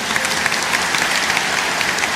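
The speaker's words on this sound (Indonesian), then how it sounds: "Kasih tepuk tangan untuk Tuhan." Congregation applauding during a Christmas worship service in a church, a steady dense wash of clapping from many hands that carries on without pause and with no voices over it.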